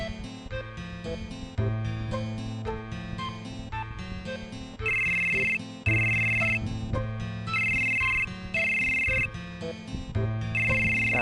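A phone rings in the Final Fantasy 7 video game, a looping electronic ringtone melody with bright repeating tones, loud and steady with no talking over it.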